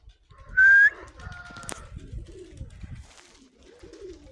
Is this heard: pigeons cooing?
yes